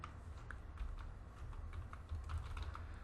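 Typing a router command on a computer keyboard: soft, quick key taps in an irregular rhythm, close but quiet over a low background rumble, no speech.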